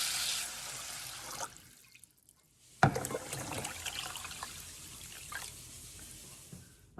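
Water is poured into a bowl of sorghum grain to soak, giving a close, steady trickling and splashing after a brief pause, with a few small drips toward the end.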